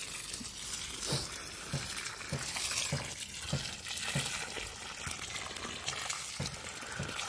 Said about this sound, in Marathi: पाणी आलं चावीला.